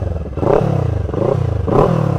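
Kawasaki Ninja 500 parallel twin fitted with an aftermarket exhaust starting up and running, with a loud, close, pulsing idle and a couple of brief revs rising and falling.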